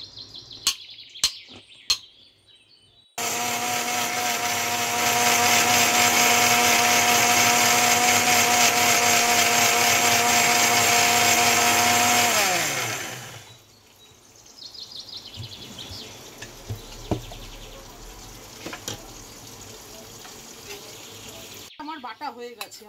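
A mixer grinder whirs loudly and steadily for about ten seconds while blending soaked spices with water into a paste, then winds down. Quiet clinks and rustles come before and after the run.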